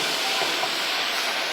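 Meat stir-fried with vegetables in a pan gives a steady, loud, close hiss of sizzling that runs unbroken throughout, with no voices.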